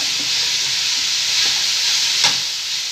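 A frying pan of bitter gourd pickle is stirred over heat, giving a steady close sizzle with light scraping and a few brief clinks against the pan.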